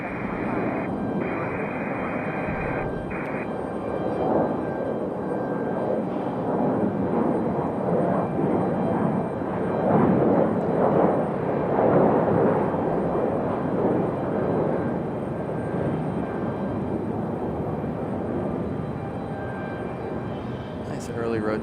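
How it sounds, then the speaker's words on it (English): A United airliner takes off from runway 23 right at Raleigh Durham airport, a steady broadband jet roar that swells in the middle and holds throughout, with a voice talking over it. "Nice early rotation for that United."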